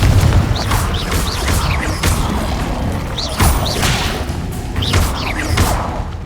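Confringo explosion spells in the video game Hogwarts Legacy: a run of loud, close booming blasts with swishing whooshes, several impacts following one another in quick succession.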